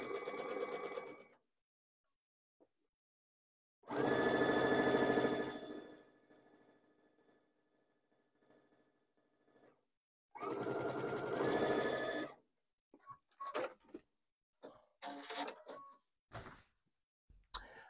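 Electric sewing machine stitching a French seam along the bottom of a fabric piece, running in two sustained loud bursts separated by quiet, with short stop-start stitching taps at the end.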